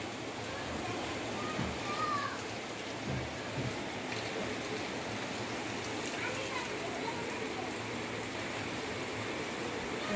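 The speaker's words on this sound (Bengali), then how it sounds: "বৃষ্টি নেমেছে" Rain falling after a spell of hot weather, a steady, even patter of drops on surfaces heard nearby for the whole stretch, with faint distant voices mixed in.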